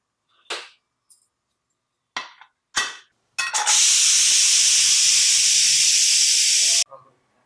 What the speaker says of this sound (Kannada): ಕುಕ್ಕರ್ ಮುಚ್ಚಿ ಎರಡು ವಿಸಿಲ್ ಮಾಡ್ಕೊಂಬಿಡೋಣ